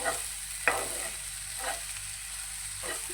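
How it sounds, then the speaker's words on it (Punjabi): Okra sabzi cooking on a low flame in a pan gives a faint, steady sizzle, broken by a few soft stirring scrapes spaced a second or so apart, with no voices. "ਹੁਣ ਆਪਾਂ ਬਿਲਕੁਲ ਲੋ ਫਲੇਮ ਤੇ ਪਕਾ ਰਹੇ ਹਾਂ ਜੀ ਸਬਜ਼ੀ ਨੂੰ"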